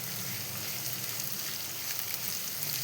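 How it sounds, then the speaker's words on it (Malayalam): Green chilies sauté in hot oil in a pan while a tamarind-ginger dish for an Onam feast is cooked, giving a steady, even, close sizzle with no talking. "ഞാൻ പച്ചമുളക് ഇട്ട് കൊടുക്കുന്നുണ്ട്."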